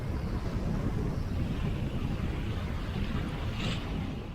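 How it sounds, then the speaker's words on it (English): Wind at sea aboard a sailing boat, a steady dense rushing roar with low buffeting against the microphone and the wash of water, continuous and loud with no clear breaks. "the wind has mellowed out a bit"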